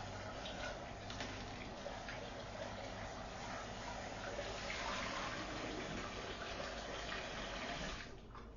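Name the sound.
rinsing out a container with water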